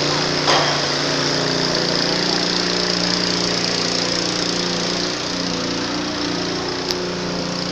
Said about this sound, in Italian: ci sono rumori delle pompe